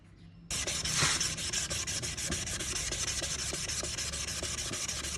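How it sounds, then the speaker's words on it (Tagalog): A sanding tool grinds steadily against the painted plastic fairing of a motorcycle, stripping paint near a crack; a continuous close, loud abrasive whir begins abruptly and holds with little variation. "Para mas mabilis matanggal yung pintura, gumamit na ako ng sanding tools."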